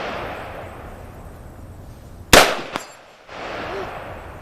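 At an outdoor shooting range, a single sharp gunshot cracks loudly, followed a moment later by a faint metallic ping from a bullet striking a steel target, with light background noise before and after.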